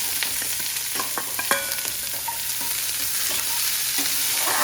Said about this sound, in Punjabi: ਜਿਵੇਂ ਆਪਾਂ ਜੀਰਾ ਭੁੰਦੇ ਹੁੰਦੇ ਆ ਉਵੇਂ ਆਪਾਂ ਸੌਂਫ ਭੁੰਨ ਲਈਏ